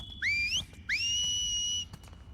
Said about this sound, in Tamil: இவதான் விசில் அடிப்பாங்க. அப்படியே அடிக்கிறா பாருங்க.